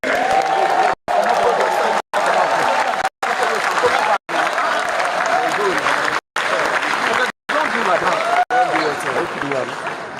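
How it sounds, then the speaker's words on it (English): A crowd at a Labour Party leadership summit in Abuja applauds and cheers to welcome a speaker. The dense clapping and voices are loud and close, broken by brief regular dropouts of silence. "Join me with one voice and hand clap to welcome Dr. Doyin Okupe."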